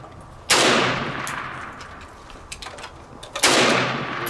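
An M1 Carbine rifle fires two sharp, loud gunshots about three seconds apart, each with a short decaying echo, and light knocks and handling noises fall between them.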